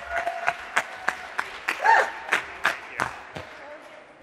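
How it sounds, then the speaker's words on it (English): A small audience claps at the end of an interview event, sparse and distinct claps landing in an uneven rhythm with a brief denser burst midway, fairly close and clear. "Let's give them a big round of applause, guys."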